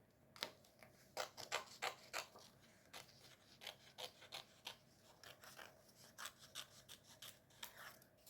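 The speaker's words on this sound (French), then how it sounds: "On va découper ça tranquillou." Paper being cut with scissors while making a moodboard, a steady series of soft, rasping snips repeating at an uneven rhythm, close by and fairly quiet, with no talking.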